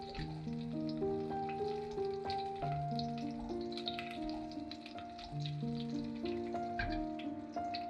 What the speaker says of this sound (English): Once the ghee is hot, season with cardamom and red chilies.